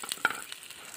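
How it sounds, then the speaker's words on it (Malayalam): Sliced onions dropped into hot oil, a brief crackling sizzle with a couple of sharp spatters near the start, close and fairly quiet. "നമ്മുടെ എണ്ണ ചൂടായിട്ടുണ്ട്. ഇതിലേക്ക് സവാള ഇട്ട് കൊടുക്കുക"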